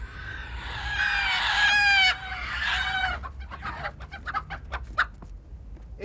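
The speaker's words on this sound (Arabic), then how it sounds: "عطوة، بربي فراخ" Chickens cluck and a rooster crows loudly and close in a farmyard setting, the long harmonic crow giving way to a run of sharp, irregular clucks.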